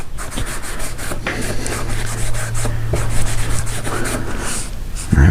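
Tung oil being rubbed by hand onto wood, a close, continuous scratchy rubbing with rhythmic strokes and a brief knock at the end.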